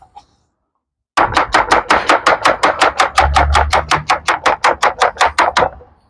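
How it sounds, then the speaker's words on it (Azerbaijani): A knife chops onions into long slices on a board in a restaurant kitchen, over twenty crisp, evenly spaced strokes, close and loud, with a faint low rumble beneath. "Bundan ötürü bizə lazımdır soğanı doğramaq uzun-uzun."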